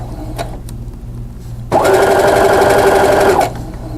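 A sewing machine runs a quarter-inch quilt seam, a loud, even mechanical whir that starts abruptly, holds for under two seconds, then cuts off; quiet room hum and light clicks surround it.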